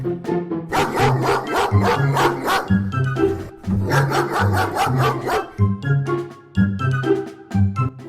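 Mother dog barks in repeated rapid bursts, loud and close, with short pauses between the volleys.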